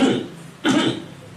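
A person clears their throat twice in quick succession, close and fairly loud, the two rough bursts separated by a brief pause, with no words spoken.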